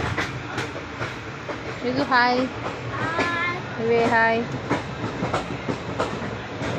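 A passenger night train pulls out of Chennai Central, its steady rolling rumble and rhythmic clicks of wheels on rail joints running throughout, with people talking and children calling out over the noise inside the carriage.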